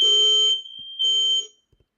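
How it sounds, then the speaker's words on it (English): A fire alarm sounds in two loud bursts of a steady, piercing electronic tone, the first about half a second long and the second about the same length after a short pause. "that the fire alarm?"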